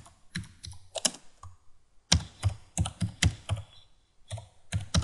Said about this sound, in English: So you can simply just start typing.